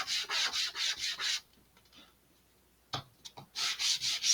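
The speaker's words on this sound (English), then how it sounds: "me sanding this side" Sandpaper rubs back and forth on a wooden part of an Estes Loadstar II model rocket, a close series of rhythmic scratchy strokes, then a quiet pause with a few light touches before the strokes resume.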